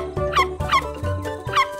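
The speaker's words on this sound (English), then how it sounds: "It's no wonder dogs are not allowed on the island." A dog gives three quick, high-pitched yips and squeaky barks close by, evenly spaced and fairly loud.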